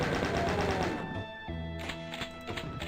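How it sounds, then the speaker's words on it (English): Chaingunner enemies in Doom 2 fire rapid machine-gun bursts, a dense rattling stream that breaks off, then short punchy shots and clanks follow over a humming background. "Oh, so surprise chain gunners!"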